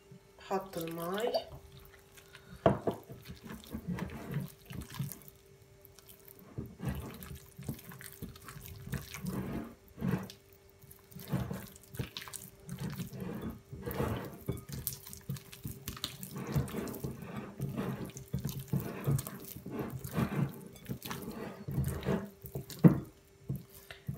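Water runs from a tap into a bowl of olive bread dough during kneading. The water splashes and trickles steadily throughout, with wet squelches and handling noise from the dough mixed in.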